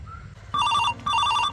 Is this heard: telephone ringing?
yes